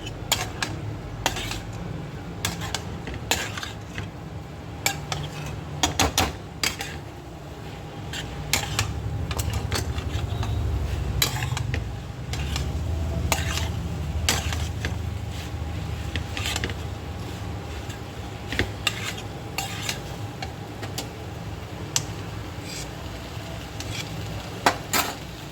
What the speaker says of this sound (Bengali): সো আমরা এবার পাস্তাটাকে দিয়ে ভালো করে নাড়তে থাকবো, আর এই সময় গ্যাসের ফ্লেমটাকে একটু হাই করে দেবো।